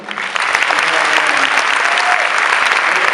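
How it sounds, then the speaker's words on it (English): A large convention audience at the 2015 MAS ICNA Convention breaks into loud, sustained applause for the organizers, swelling quickly after a brief quiet start into a thick, continuous roar of clapping. "A round of applause for them."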